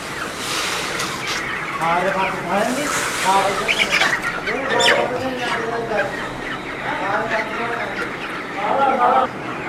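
Broiler chickens packed in a two-floor poultry farm house, a dense continuous chorus of clucking and chirping from many birds at close range, with a person talking over it.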